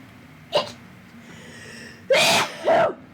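Two sharp, close sneezes from one person, the first a small one and then a louder burst with a quick follow-up, in a quiet room.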